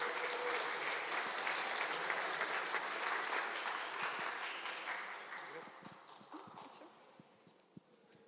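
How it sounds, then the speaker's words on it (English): An audience applauds at the opening of a game jam event, with a dense, steady wash of clapping that tapers gradually toward the end, leaving scattered individual claps. "Give some applause,"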